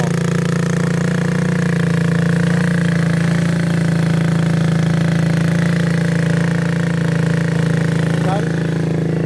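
A motorcycle engine with a 110 cc engine is held at high revs to burn rubber, a loud, steady droning roar that barely changes pitch throughout, close by, with no speech over it.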